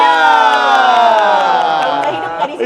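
A group at the opening of a welcome event at the Volt Automotive Museum breaks into loud, sustained cheering and shouts of joy, a close crowd roar that fills the whole moment with a short dip near the end.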